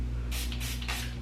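Three quick hissing bursts from a heat protectant spray bottle onto hair, close up, over a low steady hum.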